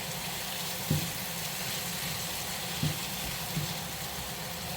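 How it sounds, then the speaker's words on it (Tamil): Green beans with spices sauté in a pan, a steady low sizzle with a few soft stirring knocks, close and alone. "இது கொஞ்சம் 1 நிமிஷம் நல்லா வதக்கணும்."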